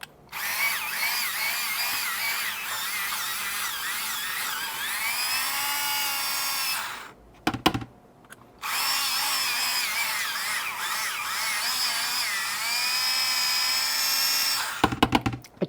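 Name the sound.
power drill countersinking a hole in a Mini4WD plate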